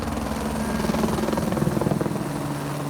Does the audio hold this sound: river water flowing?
no